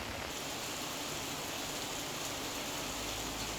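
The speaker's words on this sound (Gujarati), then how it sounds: "અમરેલીના ખાંભા પંથકમાં પણ વરસાદ વરસી રહ્યો છે" Steady heavy rain pours over the Khambha area of Amreli in Gujarat, a dense continuous hiss with no voices.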